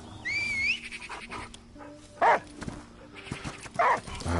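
Dog panting and soft yips in the game Last Day of June, a few short breathy bursts over quiet background game ambience and chimes, with no one speaking.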